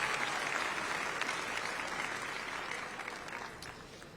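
A graduation ceremony audience applauds at a high school commencement, a dense, steady wash of clapping from a large crowd that slowly fades toward the end.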